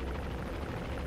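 A distant helicopter in the video game Metal Gear Solid V: The Phantom Pain gives off a low, steady rotor rumble, heard faintly and alone for about a second.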